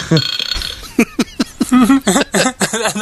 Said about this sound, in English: I can actually talk while I burp now